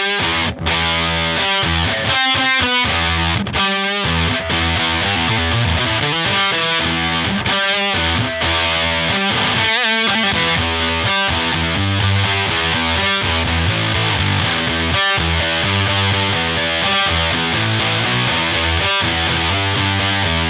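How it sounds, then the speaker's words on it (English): Electric guitar run through a Big Muff and a Prime Distortion blended together, riffing loudly in a thick fuzzy tone with a heavy low end and crisp bite, choppy rhythmic stabs and brief gaps, with no voices. "You've got the nice low bottom end from the big muff and the nice crisp sound from the prime distortion"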